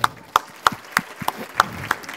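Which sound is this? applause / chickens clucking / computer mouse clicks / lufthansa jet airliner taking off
applause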